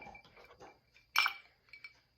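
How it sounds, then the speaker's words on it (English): Ice cubes drop into a cup with one bright, sharp clink in the middle and a softer tap shortly after, quiet and close with faint knocks before. "no matter how many ice cubes I throw in there"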